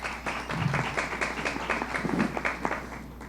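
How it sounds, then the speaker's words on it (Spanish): Audience at a science and health forum gives a round of applause, individual claps clearly distinct in a lively irregular patter of moderate loudness over a low steady room hum. "Un aplauso para ella."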